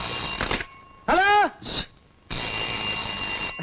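A telephone bell rings in an office in a Telugu film scene, giving a couple of short, loud bursts with pauses between them and steady background noise.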